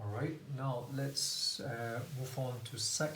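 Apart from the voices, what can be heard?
No everyday noise stands out behind the speech.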